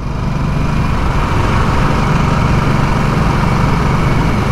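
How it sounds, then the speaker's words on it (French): A Harley-Davidson Nightster engine idles low and steady, around 1800 to 1900 rpm, with a loud, continuous rumble and no pauses. "On va laisser mourir un peu le moteur."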